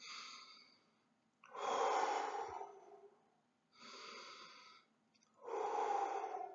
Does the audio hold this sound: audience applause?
no